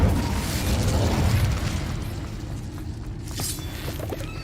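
An Incendio fire spell from Hogwarts Legacy erupts in a roaring burst of flame that rumbles and then fades into quieter crackling and a few soft pops.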